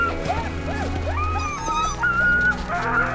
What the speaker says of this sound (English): These dogs are very important to Greenland.